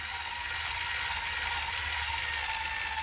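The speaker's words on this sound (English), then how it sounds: "Cordless screwdriver's struggling a bit today." A cordless screwdriver strains to drive a 75mm screw into gazebo timber, a steady high whirring and grinding that holds on without pause, with no talk.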